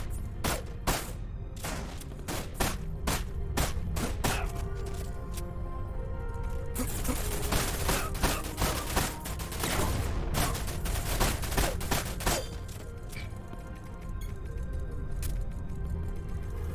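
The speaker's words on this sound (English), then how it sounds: "a minigun turret." A minigun turret in the video game Dirge of Cerberus firing, dense loud bursts of rapid gunfire with scattered single shots and booms, continuing almost nonstop with brief pauses.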